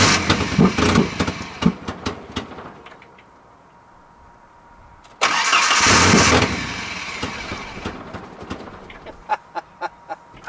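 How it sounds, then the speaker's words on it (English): A truck engine cranks and fires on Everclear alcohol fuel, then struggles and labors unevenly, with loud bursts of revving between sharp ticks and knocks, close by. "She starts up, but then she's fighting right away."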